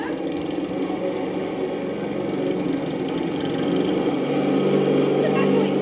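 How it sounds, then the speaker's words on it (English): A house cat purring: a steady, low rumbling drone that runs unbroken and close throughout, growing slightly fuller toward the end. "It's a purring cat."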